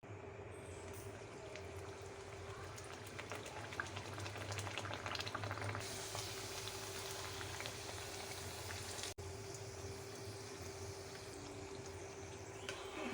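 Pumpkin gharge fry in hot oil with a soft, continuous bubbling sizzle, fairly faint and even, with a low steady hum beneath and no talking.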